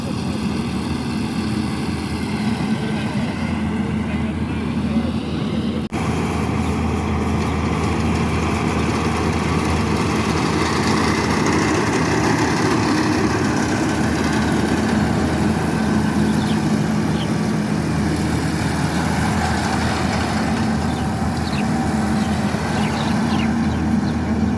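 A rice harvesting machine cuts paddy in a field in Bangladesh, its engine running at a loud, steady, continuous drone with a low hum throughout, close by and uninterrupted.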